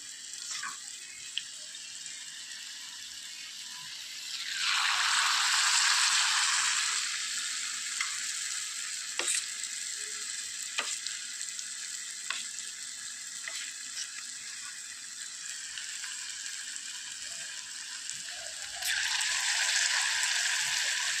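Jackfruit pieces frying in a small amount of oil over medium flame, giving a low continuous sizzle with two louder bursts of hissing, a few faint clicks, and no talking.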